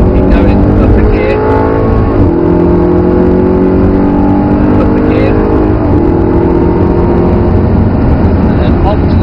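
An Audi R8 accelerates hard on a track: a loud, close engine note climbs steadily in pitch, dips at each upshift, then climbs again with a continuous throaty roar throughout.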